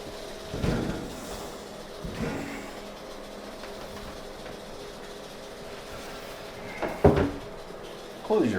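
A reptile enclosure door is handled in a few brief knocks and clatters during cleaning day among rattlesnakes, with sparse speech-like sounds and a louder clunk near the end.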